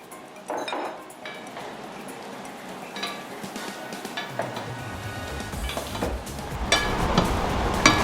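Crispy roasted potatoes and green beans are tossed with vinaigrette in a pan or bowl, with scattered clinks and light scraping knocks that become busier and denser toward the end.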